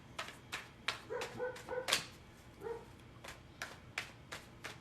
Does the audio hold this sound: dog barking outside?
yes